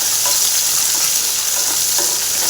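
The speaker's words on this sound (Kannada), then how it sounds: "ಸ್ವಲ್ಪ ಫ್ರೈ ಆಗಲಿ ಅದು ಈ ಥರ ಕೈ ಆಡಿಸ್ಕೋಬೇಕು" Carrot slices for carrot rice sizzle steadily in a hot pan while a utensil stirs them with soft scraping strokes, close and continuous with no voices.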